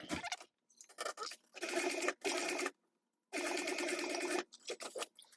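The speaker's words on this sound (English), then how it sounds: "And I'm gonna just baste it real quick." Sewing machine basting fabric pieces for a small backpack, running in short close bursts of rapid mechanical stitching separated by pauses, with two longer steady runs.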